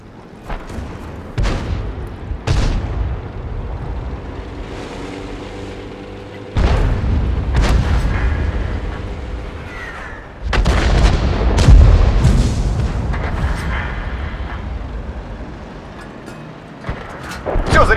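Tank cannon shots in World of Tanks, several heavy booming blasts at irregular intervals with rumbling low-end decay between them, loud and close, with occasional talk underneath.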